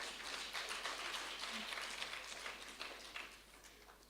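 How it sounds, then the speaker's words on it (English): Audience applause at a national inclusive education symposium, a steady patter of clapping hands that stays faint and distant for the whole stretch. "Let's all clap for him"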